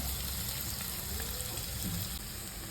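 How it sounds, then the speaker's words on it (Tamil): Onions and capsicum fry in hot oil in a nonstick pan, giving a dense, even sizzle that runs throughout at close range with no speech. "இது வெங்காயத்தெல்லாம் போட்டுங்க. கேப்சிகமும் போட்டுக்கோங்க."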